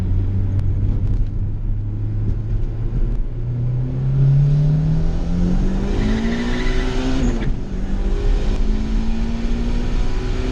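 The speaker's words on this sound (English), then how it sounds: "Give it a hit in second gear here and show you how the power is." A turbocharged Honda EG GSR hatchback accelerates hard in second gear, its engine note climbing steadily in pitch and loudness over about seven seconds before a shift-like drop and renewed pull, loud and close.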